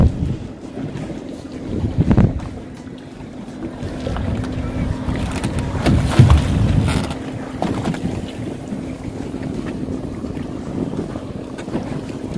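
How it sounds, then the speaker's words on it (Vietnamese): A fishing boat motors out to sea on a squid-fishing trip, its engine holding a steady hum under heavy wind buffeting the microphone, with occasional thumps and knocks as the hull rides the waves. "Cái tàu ta đang chạy ra"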